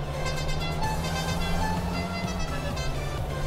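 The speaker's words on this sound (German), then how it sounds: "Irgendwer hupt hinter mir umeinander" Car horn honking from behind in the farming game Farming Simulator 19, several short toots repeating over a steady engine drone, moderately loud amid the in-game vehicle noise.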